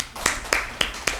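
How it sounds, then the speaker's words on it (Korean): Four sharp, evenly spaced claps from a small audience at a Korean Buddhist talk on the Diamond Sutra, a brief, bright burst with no talking over it. "다음 분 박수 한번 쳐주세요."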